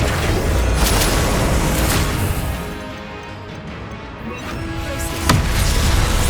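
Spell blasts cast in Hogwarts Legacy, loud booming and crashing bursts overlapping in a dense, continuous barrage, dipping briefly before a sharp impact and renewed rumble.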